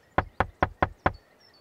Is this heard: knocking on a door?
yes